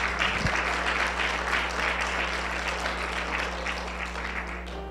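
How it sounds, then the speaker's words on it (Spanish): Loud, sustained applause from a large church congregation fills the space, steady throughout with a low hum underneath. "denle un aplauso fuerte al Señor."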